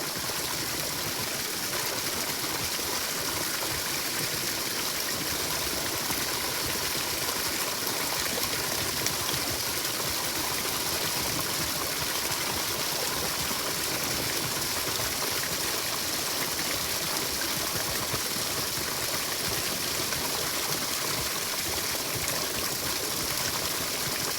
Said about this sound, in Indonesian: setelah kopi tidak ada lagi yang mengambang, kita buang airnya